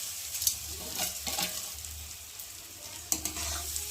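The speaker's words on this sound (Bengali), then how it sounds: "দিয়ে চালটাকে একটু ভালো করে ভেজে নেব যাতে না তলায় লেগে যায়, সবসময় একটু নাড়তে থাকবো।" Spiced rice for basanti pulao frying in a pan, a steady close sizzle broken by scraping stir strokes as it is turned to keep it from sticking.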